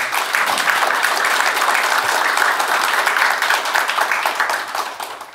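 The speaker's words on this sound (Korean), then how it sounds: "큰 박수로 맞아주시기 바랍니다" Sustained applause from an audience at a Korean policy forum on fire safety design and supervision, welcoming a National Assembly member to the podium; dense steady clapping throughout, easing slightly near the end.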